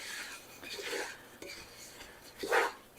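A utensil clinks and scrapes through thick corn chowder in a pot, giving soft intermittent stirring scrapes and one brighter metallic knock near the end, faint and close.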